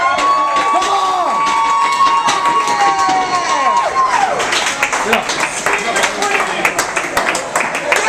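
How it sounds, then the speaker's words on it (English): A lively crowd at a San Antonio show applauds, cheers and stamps feet loudly, with a sustained whistle-like tone early on and dense clapping and shouting throughout. "really big round of applause, lots of foot stamping"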